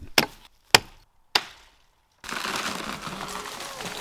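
An axe chops a dead maple tree outdoors: three sharp separate knocks roughly half a second apart, then a silence and a rustling, crackling rush that sounds like the trunk coming down through branches.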